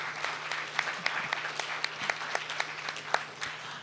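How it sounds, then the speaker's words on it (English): Audience applause after a lecture in Wichita, Kansas: a small crowd clapping steadily, individual sharp claps distinct, fairly close, lasting a few seconds, no talk. "Please give them a hand."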